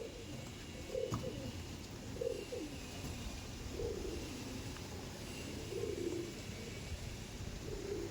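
A pair of Andhra pigeons, cock and hen, coos in soft repeated bursts, several rounds spaced across the stretch, close by over a steady low background murmur.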